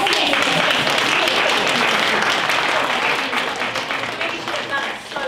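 Business awards audience applauding steadily, a dense wash of many hands clapping at close range that tapers slightly toward the end.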